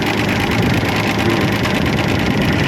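A tractor engine runs in gear with its PTO spinning, producing a loud, close, steady mechanical drone with a low rumble that stays constant and unbroken.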